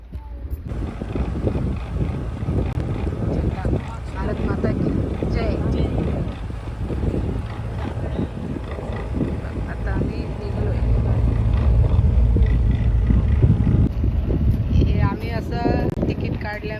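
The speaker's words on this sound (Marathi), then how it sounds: "आणि आता आमची बोट निघालेली आहे" A passenger boat leaves Karanja jetty with a steady low engine rumble and wind buffeting the microphone, while people talk nearby.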